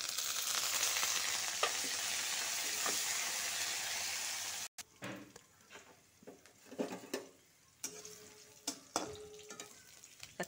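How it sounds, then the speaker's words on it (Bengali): Curry leaves hit hot oil in a pan with green chillies, a loud steady sizzle that drops off abruptly, followed by quieter sizzling broken by scraping stirs and clinks, with no talking. "এখন কয়েকখানা কারি পাতা দিব।"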